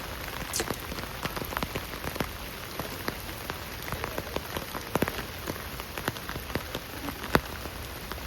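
Heavy rain pours in a deep forest during tent camping, a dense steady hiss with many sharp individual drops spattering on nearby surfaces, constant from start to end and free of talk.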